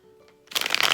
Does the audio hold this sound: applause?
no